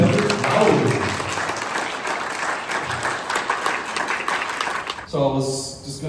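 A crowd at a Florida video game convention claps and cheers for a guest, dense applause filling most of the stretch before fading out as a voice begins speaking over the tail.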